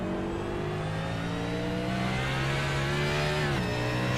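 A NASCAR race car in a racing video game accelerating out of the Peraltada corner at Mexico, its engine a loud, sustained rising drone that climbs in pitch, then dips briefly with a gear change before pulling on.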